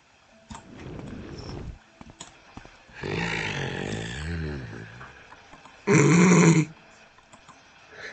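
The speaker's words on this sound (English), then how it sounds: "He's just growling at me." A creature in the video game Morrowind growls in short, rough bursts, with one harsher and louder burst near the end, over a quiet game background.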